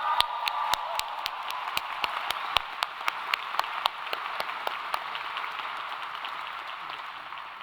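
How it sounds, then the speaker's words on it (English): Graduation convocation audience at a school of management and labor relations ceremony applauds, opening with crisp rhythmic unison claps over a steady crowd wash, then settling into sustained even clapping. "So now you can applaud."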